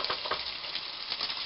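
Sausages sizzle in a pan over turned-down heat, a dense, continuous close frying hiss with a few soft pops and bursts across the short stretch, with no talking.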